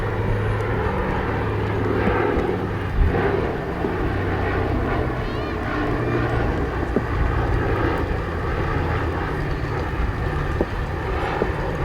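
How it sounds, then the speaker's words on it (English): A Republic P-47 warbird's engine runs at an airshow at Duxford, a loud, steady propeller-engine drone that holds throughout with slight surges, heard amid general crowd ambience. "Nice P-47 has fired up"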